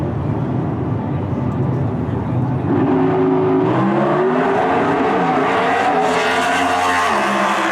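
A Pro Stock drag race car at the NHRA Finals, running an Iconio engine, roars loudly, its pitch rising and shifting sharply through gear changes as it accelerates over steady background noise.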